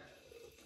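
Tap water running steadily into a sink during a wet shave with a straight razor and shaving soap, a short continuous low rush with no voices.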